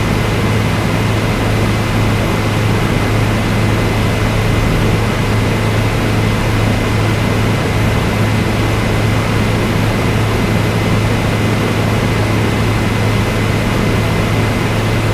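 Steady, loud cabin drone inside a Bell 207 demo aircraft flying from Glasgow to Edinburgh, an unbroken broadband roar over a low hum that never varies, heard without headphones and with no talking.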